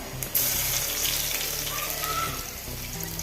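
Mustard seeds and crushed garlic frying in hot coconut oil, a steady close sizzle with a sharp burst of spitting at the start and a soft continuous crackle afterward, no speech.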